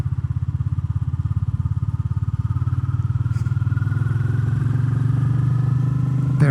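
A motorcycle engine revs up to around 3000 RPM, its loud, steady throb rising gradually in pitch and intensity throughout, close by with no talking.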